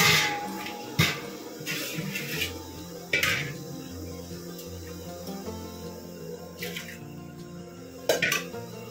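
Melted jaggery syrup is strained in a kitchen, with metal utensils and pots clinking and scraping, a few sharp clanks standing out over a soft background hum.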